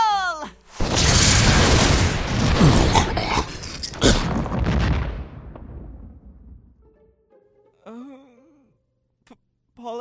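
A magic missile spell effect in a fantasy audio drama erupts as a loud booming blast that rolls and rumbles for several seconds before fading, followed by faint voices.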